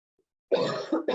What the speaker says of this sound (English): This cough is not due to COVID-19.